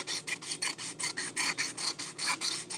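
Sandpaper rasps over a cast-iron pan in quick rhythmic back-and-forth strokes, steady and fairly close, with no voices.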